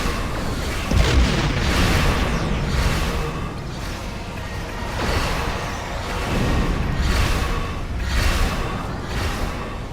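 Torpedo spread explosions in the space combat game Star Trek Online: repeated heavy booms and whooshing blasts swell in loud waves across the whole stretch, with no talk over them.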